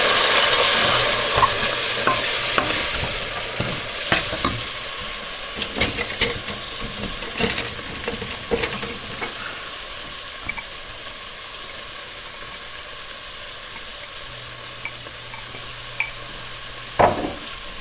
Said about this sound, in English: After about a minute of stirring the spices, you're going to add the 1 cup of tomato sauce.